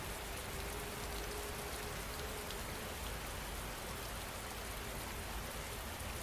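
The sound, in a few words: rain falling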